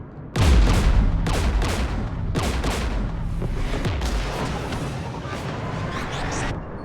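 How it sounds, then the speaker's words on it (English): Heavy gunfire and booming artillery in a Mass Effect 3 battle with geth forces, a sudden loud onset of layered shots and blasts that keep rolling dense and close for several seconds. "We're taking fire."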